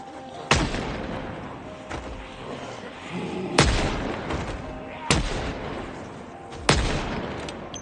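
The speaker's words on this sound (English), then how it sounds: "I'll just keep shooting" Four loud gunshots ring out in Project Zomboid, spaced a second or more apart, each a sharp broadband crack with a decaying tail, over steady game ambience with no speech.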